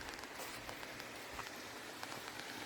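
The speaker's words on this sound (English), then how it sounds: "And in here somewhere there is water pouring." Water pouring through a small tunnel beneath a railroad at night, a steady, hissing splash that continues without a break, with faint scattered drips across it.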